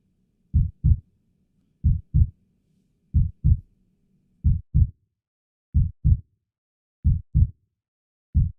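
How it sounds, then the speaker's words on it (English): Heartbeat heard through a USB microphone, a clear double thump, lub-dub, repeating about every 1.3 seconds in a slow steady rhythm, close and isolated against near silence. "I can listen to its heartbeat."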